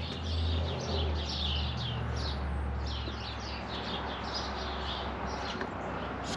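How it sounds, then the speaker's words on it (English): Birds chirp and sing repeatedly in the background, a steady scatter of high calls over a low outdoor rumble. "Birds are singing."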